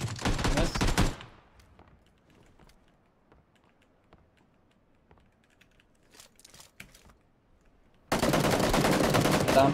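Shots from a gun in the battle royale game PUBG, heavy loud bursts at the start and end framing a quiet middle of faint keyboard typing and scattered clicks.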